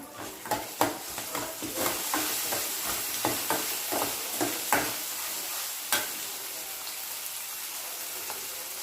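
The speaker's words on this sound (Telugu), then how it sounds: "పచ్చిమిర్చి ఉల్లిపాయలు కలుపుకొని అల్లం వెల్లుల్లి పేస్ట్ కూడా వేసుకొని పచ్చివాసన పోయేంత వరకు కలబెట్టుకోవాలి" Onions, green chillies and ginger garlic paste sizzle in oil in a pan while being stirred, with a steady fry hiss and regular scraping strokes of the spoon, fairly soft and without talk.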